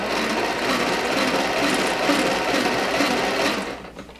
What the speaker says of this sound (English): the camera looks like this when it's running